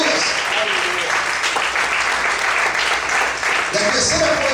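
A church congregation applauds in a dense, steady wash of clapping that fills the space at constant loudness, with a voice faintly heard under the applause.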